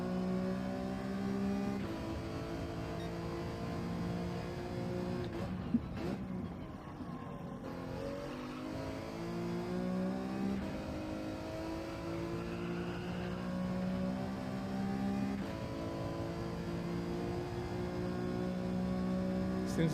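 A car engine in Gran Turismo 7 revs continuously through gear changes with rising and falling pitch, steady and fairly loud for the whole stretch, with a brief burst of noise near the middle.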